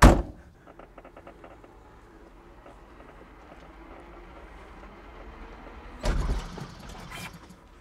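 A classic Fiat 500 engine is cranked, giving a loud burst at the start, then a quiet idle-like rumble before a second rough burst as it nearly catches, heard from inside the car.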